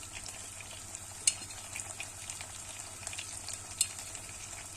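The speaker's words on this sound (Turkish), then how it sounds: "bunları karıştırarak kavuruyoruz" Red pepper, thyme and mint stir-roasting in oil in a pan for tarhana soup, a soft, steady sizzle with a couple of brief spoon clicks against the pan.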